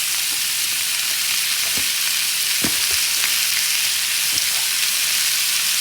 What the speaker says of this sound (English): I'm gonna turn them over all 4 sides and get them kind of seared off there